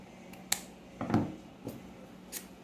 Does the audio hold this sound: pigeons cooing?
no